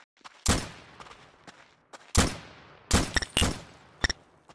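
Several loud, separate M1 rifle shots ring out in Garry's Mod during a WWII roleplay server session, with sharp reports spaced irregularly over a few seconds and quieter shots in between.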